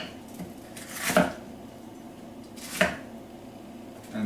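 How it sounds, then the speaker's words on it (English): A knife cutting through a red pepper on a board, two distinct crisp chops about a second and a half apart, close and clear, with a quieter tap near the end. "you just cut the red pepper and take out the seeds"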